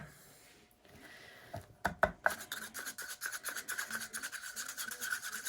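Paint pouring medium stirred together with cell activator in a cup, heard as close, faint rhythmic scraping and rubbing strokes that start after a quiet moment with a few sharp knocks, then settle into a steady stirring pattern.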